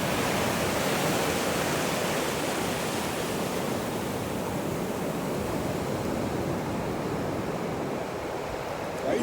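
Atlantic Ocean waves rushing onto a beach, a loud, close, continuous roar of surf and foam with no voices, swelling slightly and easing near the end.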